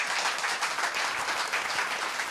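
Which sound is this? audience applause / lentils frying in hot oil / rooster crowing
audience applause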